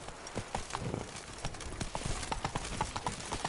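Horse hooves clip-clopping at a steady trot on hard ground in a fantasy game, close and fairly quiet with no talking.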